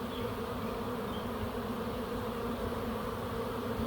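Steady, thick buzzing of a massive honeybee swarm gathering at a backyard swarm trap box with the queen inside, many bees droning close and unbroken, no talk.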